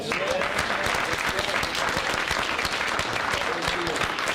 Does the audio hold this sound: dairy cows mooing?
no